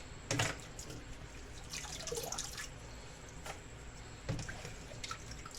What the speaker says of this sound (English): So this is my cilantro. I'm washing them now before slicing it.